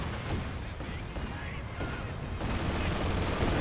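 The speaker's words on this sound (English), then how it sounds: "More artillery just running on in, more strafing runs." Artillery shells and strafing runs pounding the battlefield in Company of Heroes 2, a dense, continuous rumble of blasts and gunfire at a steady loud level.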